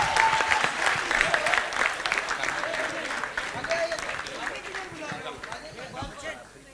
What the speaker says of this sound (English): And a big round of applause to Glenn for starting this evening.